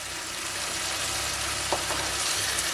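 Smoked paprika and pepper being stirred in a hot frying pan, a steady close sizzle with a few faint scraping touches of the spoon.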